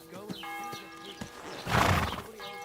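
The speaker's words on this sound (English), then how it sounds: "We're going to summon our horse" In Kingdom Come: Deliverance II, a horse whinnies loudly in a rising burst amid clip-clopping hooves, with a steady tonal game sound running underneath and hoof steps before and after.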